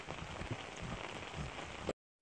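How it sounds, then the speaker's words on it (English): Heavy rain pours steadily onto a surface outdoors during a catfish catch-and-cook session, a dense, constant patter with no speech, stopping abruptly near the end. "It has started to rain pretty heavy"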